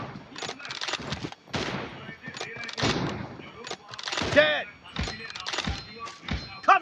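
Gunshots in the BGMI video game ring out as several punchy, close cracks scattered among chatty in-game voices, the shots and talk overlapping throughout.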